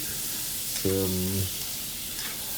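Vegetable chopsuey stir-frying over medium to high heat in a pan gives a steady broadband sizzle throughout, with a brief low tonal hum rising in the middle.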